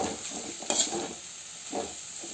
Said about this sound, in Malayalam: ഉണക്കമുളക് ഇട്ട് കൊടുക്കാം കറിവേപ്പിലിട്ട് ഇട്ട് കൊടുക്കാം നമുക്ക് മിക്സ് ചെയ്ത് വെച്ചിരിക്കുന്ന ഇട്ട് കൊടുക്കാം ഞാൻ ഇളക്കി കൊടുക്കാം